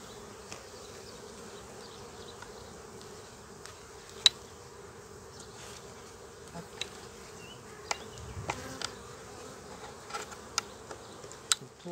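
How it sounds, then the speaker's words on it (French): Honeybees hum around a calm, open beehive in a steady low drone, with occasional small clicks and taps of frames nearby, soft and continuous without speech. "c'est une ruche qui est quand même assez calme, hein, dans l'ensemble, elle est zen"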